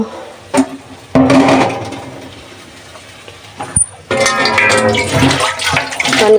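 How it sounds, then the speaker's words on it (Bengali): Water is poured into a simmering curry of jackfruit seeds and dried kachki fish in two loud, close gushing bursts, with quieter bubbling and clattering between them. "এখন পানি দিয়ে দিব"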